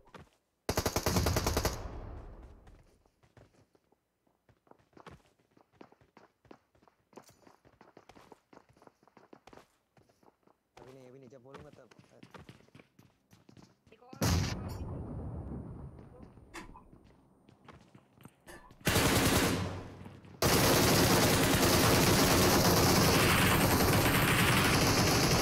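Bursts of automatic gunfire in the PUBG Mobile video game, loud dense rattling volleys at the start, middle and end, with quieter footsteps and game sounds between them and someone talking intermittently.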